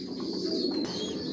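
Imported racing pigeons of a Johnson long-distance line coo in a loft, one low, soft, rolling coo heard close against light background noise.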